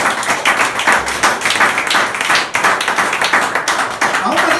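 A church congregation claps together in a dense, rhythmic patter that holds steady for several seconds, loud and close, with a few voices mixed in.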